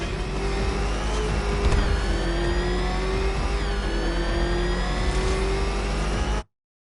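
A car engine revving hard in Batman: Arkham Knight, a steady loud mid-pitched roar with rising and falling pitch sweeps that holds for about six seconds before cutting off abruptly.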